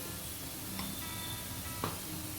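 Ivy gourd frying in a pan with ginger-garlic paste, turmeric and salt gives a steady soft sizzle, with two brief scraping strokes of a spoon stirring through it, fairly faint and with no voices.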